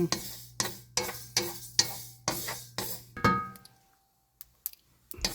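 Sesame seeds dry-roasting in a pan for idli podi, a spatula scraping through them in a steady rhythm of about eight close strokes, then a near-silent pause broken by a few faint clicks.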